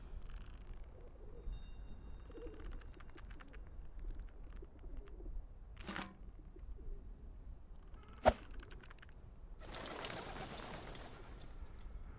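Pigeons in the video game Whateverland coo softly and intermittently in a quiet scene, low murmuring calls spread through the stretch, broken by a couple of sharp clicks and a short burst of noise near the end.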